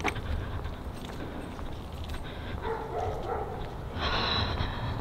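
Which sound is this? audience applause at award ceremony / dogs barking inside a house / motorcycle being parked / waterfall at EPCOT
dogs barking inside a house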